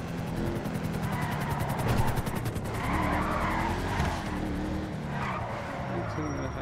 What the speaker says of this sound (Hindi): मेरे ख्याल से रेस हो रही है.